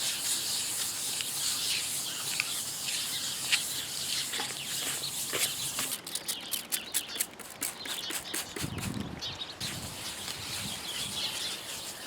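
Finer-grit sandpaper rubs back and forth over a painted motorcycle tank, producing a steady close scratchy hiss that breaks into quick rhythmic strokes midway before settling back into smooth continuous sanding.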